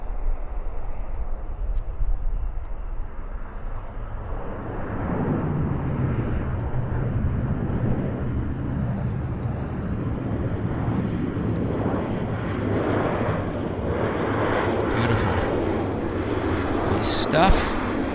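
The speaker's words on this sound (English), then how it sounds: "let's get this Q400 arrival" A Q400 turboprop airliner arriving at Vancouver Airport gives a sustained engine drone that swells and rumbles for the whole stretch. Voices talk over it, and brief higher whines rise near the end.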